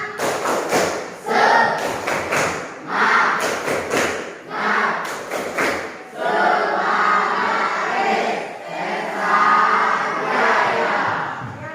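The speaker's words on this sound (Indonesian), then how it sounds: "kita tepuk semangat terlebih dahulu supaya kalian lebih semangat dalam memulai aktivitas" A classroom of students performs a rhythmic spirit clap, bursts of patterned clapping and thumps with group voices chanting along, loud and close, alternating with stretches of talk.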